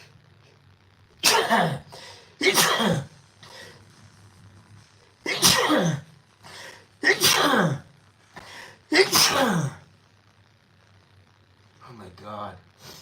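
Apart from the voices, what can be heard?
person sneezing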